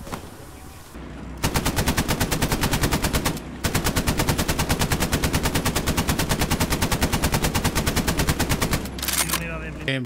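Machine gun fire in the Hell Let Loose game, D-Day anniversary event: loud, sustained rapid bursts that run for several seconds, break briefly, then resume in another long steady stream.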